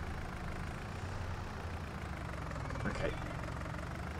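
A tractor hitched to a small dolly trailer idles in Farming Simulator, a steady low diesel rumble running throughout beneath a man's brief speech.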